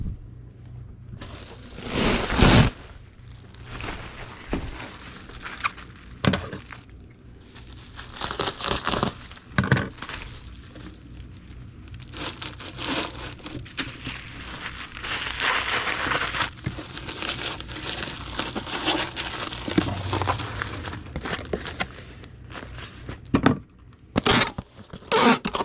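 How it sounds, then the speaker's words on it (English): A sheet of large-cell bubble wrap is handled and cut in half. It gives a long run of close crinkling and rustling with irregular louder crackles and sharp spikes throughout, and no speech. "we'll get a sheet of the big bubble wrap and cut it in half"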